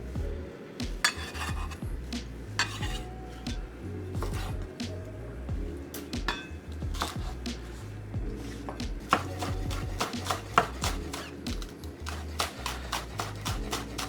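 Ginger chopped with a knife on a cutting board while making mushroom congee: steady, close knife taps and quick bursts of rapid chopping, with light kitchen clatter in the background and no speech.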